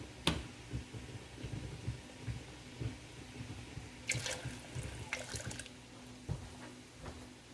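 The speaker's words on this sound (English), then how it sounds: "I'm just going to add some water back in" Water pours and trickles into a canning pot with steady splashing and intermittent drips, fairly quiet, with a few sharper clinks along the way.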